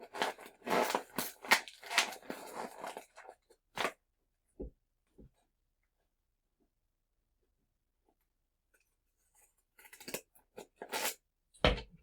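Scissors cut paper in close crunchy cutting and crinkling bursts, then a couple of isolated snips in near silence before another cluster of cuts.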